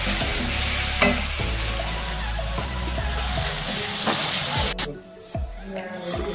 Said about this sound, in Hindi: इसे मैं भून दी ताकि उसकी स्मेल खत्म हो जाए।